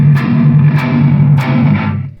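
Electric guitar played through a Hotone Ampero Stomp 2 multi-effects unit on a heavily distorted patch, a thick, loud, saturated chug with several sharp picked attacks, ringing out alone before fading at the end.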